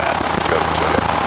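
A helicopter in flight during a landing approach at an airfield, its rotor and engine making a steady, loud, close drone with a faint rhythmic beat. Talk is mixed in.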